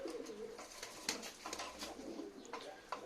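Pigeons cooing in a Turkish coop setting, soft repeated low coos with light rustling, close and moderately faint, no talk.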